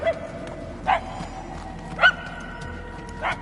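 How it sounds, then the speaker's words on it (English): Dog barks in the video game Guardians of the Galaxy, three short distant yelps spaced about a second apart over a steady ambient game soundscape with low rumble and faint tones. "The barks are getting louder"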